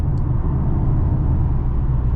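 A 2023 Mercedes-AMG GLA 45 engine drones steadily under acceleration on a highway, a loud, continuous low rumble heard from inside the cabin with no talking.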